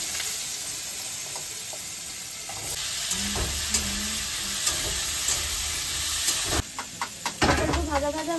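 Potatoes frying in oil with panch phoron, green chilli and salt, a loud steady sizzle with spatula scrapes and stirring, rising to sharper crackles near the end, no talk.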